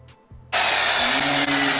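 Chainsaw starts up abruptly after a quiet moment and runs at a steady, loud, high-pitched buzz with one brief dip near the end.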